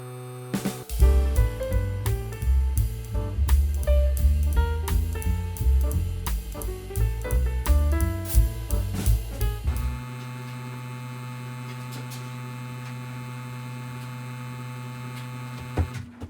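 A Kemei KM-90-4 hair clipper runs clamped in place, a steady buzzing hum; it first sounds beneath a stretch of loud plucked music and then carries on alone, constant and even.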